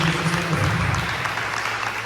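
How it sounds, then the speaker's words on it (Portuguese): A church congregation applauds during a worship service, a dense, steady wash of many hands clapping together for about two seconds, fairly loud and close, with a low hum beneath. "Quem pode aplaudir a Jesus? Aplauda mais forte"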